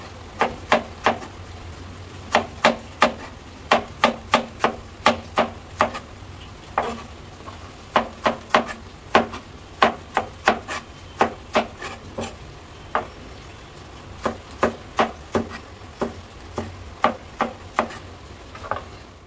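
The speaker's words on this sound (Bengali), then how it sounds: "সবগুলো চিচিঙ্গার চামড়া ছিলে নিয়ে এরপর আমি ছোটো ছোটো করে কেটে নিচ্ছি।" A knife chops peeled snake gourd into small pieces on a cutting board, a long run of sharp, close, rhythmic knocks in quick bursts with brief pauses, no talking.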